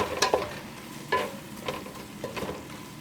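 A spoon stirs a pot of Polish bigos (hunter's stew), giving a few close, sharp scraping and clattering strokes spaced about a second apart over a soft background hiss, with no talking.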